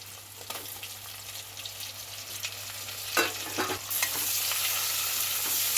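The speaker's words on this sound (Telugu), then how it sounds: "ఇప్పుడు మనం కట్ చేసుకున్న టమాటాలు అండి నేనైతే మూడు టమాటాలు వేసుకుంటున్నా" Cut tomatoes frying in a pan and being stirred, soft sizzling with spoon scrapes that swells into a louder, brighter sizzle partway through.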